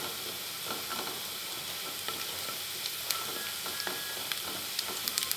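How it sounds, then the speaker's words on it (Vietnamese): Garlic frying in a spoonful of hot cooking oil in a pot, a bright continuous sizzle with faint crackles and occasional stirring clinks, steady and fairly close. "Sau khi nồi nóng thì em chế vô một muỗng canh dầu ăn, rồi em đổ tỏi vô em phi."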